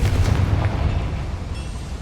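Confringo fire spell blasting a boiler inside a mine in Hogwarts Legacy, a deep, loud rumbling boom that rolls on for about two seconds and slowly fades.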